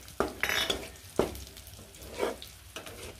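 Curry leaves, chilli, cumin and mustard seeds fry in hot oil, with bursts of sizzling and crackling punctuated by a few sharp stirring knocks of a utensil against the pan.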